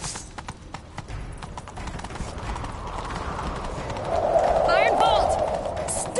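Roach, the horse in The Witcher 3, galloping in a steady clip-clop of hooves that builds louder toward the end, with a brief whinny and game voices over the hoofbeats.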